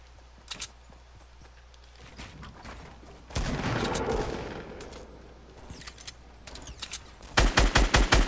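Gunfire in the GTA video game: scattered single shots, then a long noisy burst of sustained fire, more sporadic shots, and a closing rapid volley of loud, evenly spaced bangs, with no voices.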